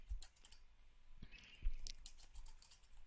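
Close-up typing on a computer keyboard, a quick irregular run of soft key clicks with a few heavier taps, no voices.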